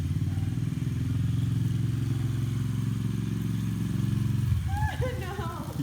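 A Honda XR50 pit bike being ridden by a learner holds a steady, buzzing small-engine drone at close range, then eases off as a voice calls out near the end.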